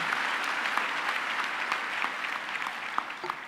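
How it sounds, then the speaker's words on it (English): A graduation ceremony audience in a hall gives a steady round of applause, a dense, even wash of many hands clapping at moderate distance with no voices on top. "May we please give him a round of applause"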